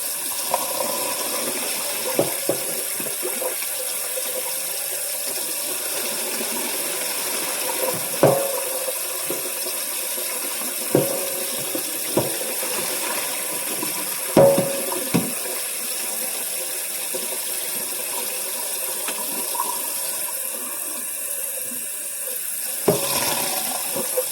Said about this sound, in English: I'm going to drain it and then we're going to transfer it to the Dutch oven.